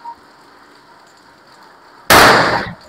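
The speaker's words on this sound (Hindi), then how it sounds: "बाण भल फुटिला" A single firecracker bursts with a sudden loud, sharp blast whose crackling tail lasts under a second. It comes after a stretch of quiet outdoor background hiss.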